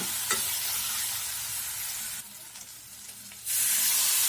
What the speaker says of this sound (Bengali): হলুদ গুঁড়ো, লঙ্কা গুঁড়ো, জিরা, ধনিয়া দিয়ে ভালো করে ভেজে নেব।